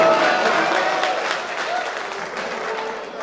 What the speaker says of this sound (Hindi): अरे आप थोड़ा ताली बजाओ, मुझे लगना चाहिए।